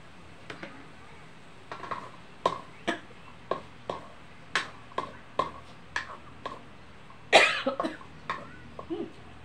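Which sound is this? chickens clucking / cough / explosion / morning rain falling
cough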